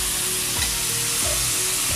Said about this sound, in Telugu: ఫ్రై చేసుకోవాలి